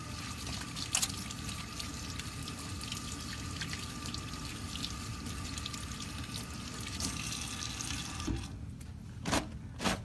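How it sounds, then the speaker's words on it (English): Warm water running from a tap as hands are rinsed at a sink, a faint steady flow with occasional splashes and drips. "you rinse off really good"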